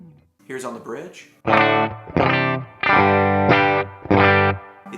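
A voice speaks briefly, then an electric guitar bridge pickup through a Kemper Benson profile plays three loud, dark, slightly gritty chords, each ringing about a second with short pauses between.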